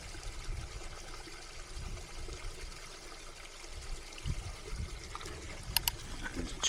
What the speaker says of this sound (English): And let's fill the water bottle up as well.